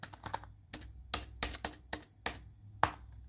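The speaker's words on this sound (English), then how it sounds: "Can't even press a key on the keyboard." Crisp clicks of keys on a Dell Latitude CP M233XT laptop being pressed, a dozen or so irregular taps close up, with no voices.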